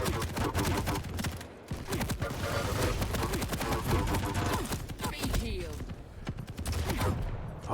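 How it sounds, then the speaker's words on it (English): Rocket blasts and heavy machine gun fire from a Quake Champions league match, dense rapid bursts of shots and explosions that run almost continuously and loud, with a brief lull near the start. "shoves a rocket into CYPHER's body, and the heavy machine gun does a similar job as the LG"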